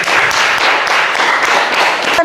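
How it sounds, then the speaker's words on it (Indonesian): A classroom group gives a short, dense burst of hand clapping for a student during an Islamic jurisprudence lesson, close and loud for about two seconds before stopping. "Tepuk tangan buat Andre"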